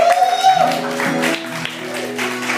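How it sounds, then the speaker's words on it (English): A comedy club audience applauds comedian Kieran Cox as he is introduced as the headline act, a steady wash of clapping over a few sustained musical tones, fairly loud and thinning slightly toward the end. "Round of applause for Kieran, everybody"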